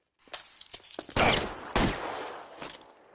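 Gunfire rings out in the L.A. Noire video game, a burst of sharp cracks followed by two loud, heavier shots with echoing tails, close and punchy, ending in a few scattered quieter pops.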